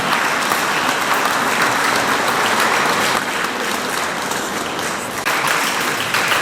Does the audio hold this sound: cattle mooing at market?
no